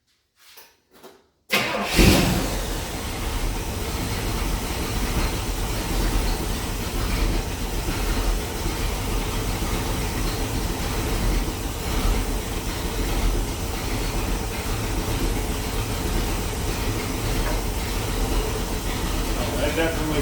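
A Pontiac Ventura engine with a newly replaced carburetor cranks with a few brief bursts, then starts and runs at a loud steady rumble. It holds a constant idle nearby for the rest of the clip, with talking under it.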